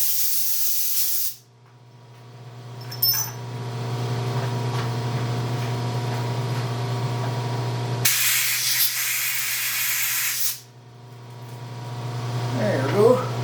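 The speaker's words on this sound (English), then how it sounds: "I did turn the air compressor on because I want to blow out this hole and the chips off the taps" Compressed air bursts out as a sharp, loud hiss in two separate blasts, clearing chips from a freshly tapped hole beside a Bridgeport milling machine, over a steady low machine hum.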